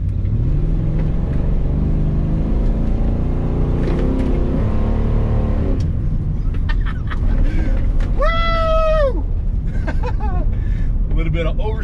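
A truck with no brakes climbing uphill across rain-soaked grass, its engine a continuous loud low rumble with a rising whine midway, while someone talks over much of it.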